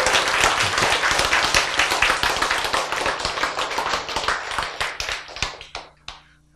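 An audience at a lecture applauds steadily, dense clapping that thins out toward the end, leaving a few final scattered claps.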